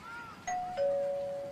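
A house doorbell chimes a clear two-note ding-dong, the higher note followed by a longer lower tone that rings out over quiet room noise.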